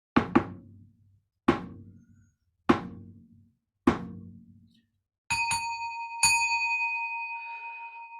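A temple bell for an evening bell chant is struck four times at slow, even intervals, each stroke a loud thud that decays, followed by a few brighter ringing strikes whose clear tones hum and fade.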